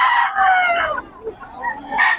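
A rooster crows loudly and close among chickens offered for sale at a market, one drawn-out crow followed by softer clucks and a second call rising at the end.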